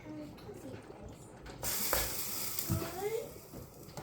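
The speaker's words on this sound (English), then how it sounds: "Right now I'm actually just mixing it up so that the ground beef is actually properly mixed" Ground beef being stirred in a frying pan, a soft sizzle with scraping and clicking utensil strokes against the pan, growing louder and brighter partway through, with faint voice in the background.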